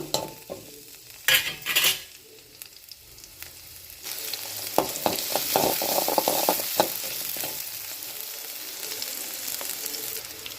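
Chopped vegetables sizzling and frying in hot oil for a brinjal chutney, with steady crackle building after a few clinks and stirring scrapes early on, close and continuous with no talk.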